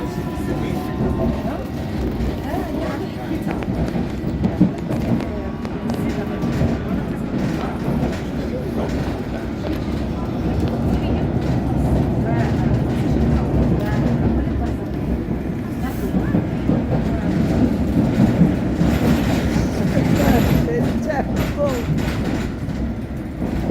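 A London Underground Circle Line train runs with a loud, continuous rumble, rattling carriages and scattered clicks and squeals from the rails, swelling slightly toward the end.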